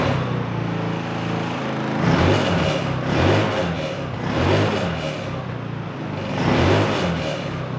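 A Chinese four-wheeler's engine runs and warms up, a loud, close mid-pitched motor drone that swells and eases in slow surges as the revs rise and fall, with no voices.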